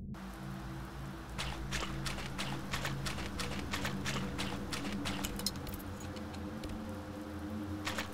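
Horse hooves clip-clop in a steady walking rhythm in the survival horror video game Conscript, close and moderately loud over a low ambient hum and rumble that lasts the whole time.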